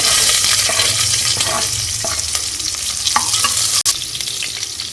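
Shallots and garlic fry in hot oil for a fish curry, making a loud, even sizzle, with soft scraping stir strokes and a brief sharp clack near the end.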